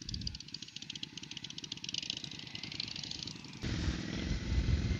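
A motorcycle, a Harley-Davidson Forty-Eight or an Indian cruiser, runs with a non-homologated exhaust while being ridden, giving a close, low, rapid pulsing rumble that grows louder and rougher for the last second or so.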